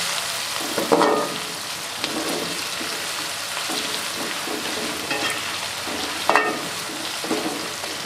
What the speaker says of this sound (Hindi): हरी मिर्चों को अच्छे तरीके से फ्राई करेंगे।